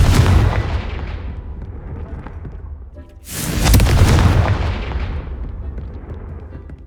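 Two big Confringo spell explosions in the Hogwarts Legacy video game, each a loud booming blast with a long rumbling, fading tail, the second erupting after a brief lull.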